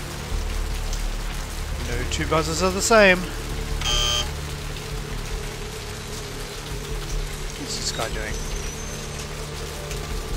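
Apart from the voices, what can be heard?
rain falling in a video game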